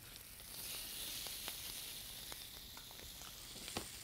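Squab searing in a hot pan, giving a steady close sizzle and hiss with scattered small pops and crackles, moderately quiet and with no talking.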